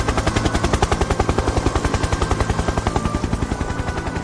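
An airplane flies overhead with a loud, rapid, evenly pulsing throb that holds steady throughout.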